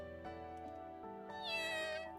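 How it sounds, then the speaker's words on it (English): A cat meowing as a sound effect in the visual novel Fruit of Grisaia: one faint, drawn-out meow rising over soft, sustained background tones. "Kitty meow!"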